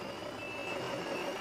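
A garbage truck backs up with its reversing alarm sounding, a steady repeating electronic beep held over a low engine rumble, moderately faint and continuous.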